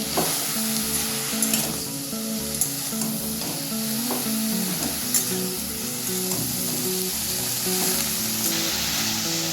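Oyster mushrooms sizzle loudly in a pan with salt while being stirred, a continuous frying hiss with repeated scraping and clattering strokes from the spoon.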